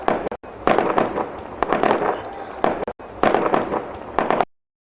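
Diwali firecrackers and fireworks burst in rapid, irregular crackling volleys, loud and close, with brief gaps between clusters of sharp pops.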